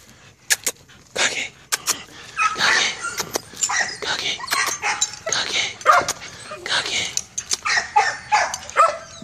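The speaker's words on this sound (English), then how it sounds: "Great dog." A young pit bull-type dog from a breeding kennel barks in sharp bursts mixed with high whimpers and yips, close and lively over several seconds, with a few faint voices in the background.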